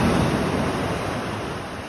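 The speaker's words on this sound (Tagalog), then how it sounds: "Kagabi pa yan, napakalakas ng alon." Strong sea waves crash and roar steadily near a foggy, mountain-lined shore, a loud, continuous wash of surf with no distinct breaks and no voices.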